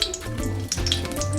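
Asafoetida dropped into hot ghee in a kadai, a steady close crackling sizzle that fills the short moment without pause.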